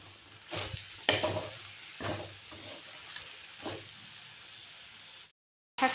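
Chopped mustard greens are stirred in a frying pan for an Assamese chicken dish, with soft scraping strokes over a steady sizzle and a quiet pause near the end.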